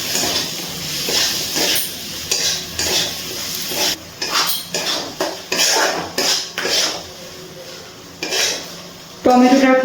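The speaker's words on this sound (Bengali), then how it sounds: "খুব ভালো করে মশলার সাথে টমেটোটা নাড়াচাড়া করে গলিয়ে নিচ্ছি।" A utensil stirs and scrapes chopped tomato with spices around a cooking pan, making repeated close metallic clanks and scrapes over a steady sizzle, with a louder clatter at the very end.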